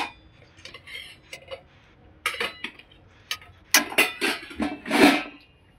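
Plates and spoons clatter and clink as a meal of kulith (horse gram) jalebi, cooked on a wood-fired chulha, is served, with sparse light taps early and then a busier cluster of sharp clinks, near and fairly loud.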